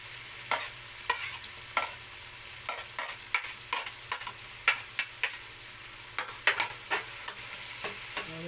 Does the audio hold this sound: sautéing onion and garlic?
yes